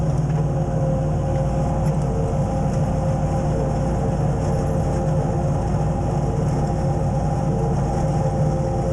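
A John Deere 2210 sub-compact tractor plows snow from a long driveway with an angled front blade, its engine droning loud and steady the whole time with a constant low rumble and no talk.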